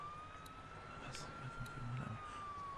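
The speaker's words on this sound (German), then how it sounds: "Da kommen sogar Polizeiautos und sowas." Police car sirens near a drugstore in Macon in The Walking Dead: 400 Days game, a faint wailing tone sweeping slowly over muffled background sounds, with brief indistinct voices underneath.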